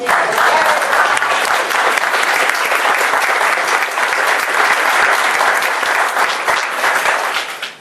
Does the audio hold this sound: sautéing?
no